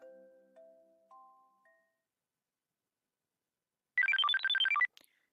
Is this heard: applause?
no